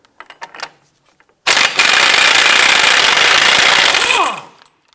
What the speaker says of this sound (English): we're going to go ahead and remove the axle nut here